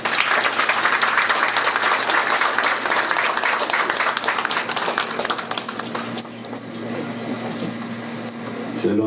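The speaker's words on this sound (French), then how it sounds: "nous accompagnons son Excellence avec des applaudissements nourris." An audience applauds an ambassador at a Côte d'Ivoire 58th anniversary celebration in Washington, DC. The clapping is dense and sustained, then thins out and fades after several seconds as the room settles.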